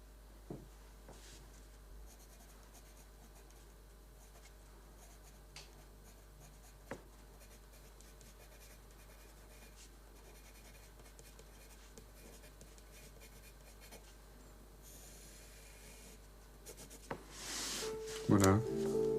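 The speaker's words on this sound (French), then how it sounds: "Alors maintenant, je vais écrire le texte." A comic artist hand-letters text onto a comic page with a pen, giving faint, steady scratching and small strokes under quiet room tone, with a louder rustle near the end.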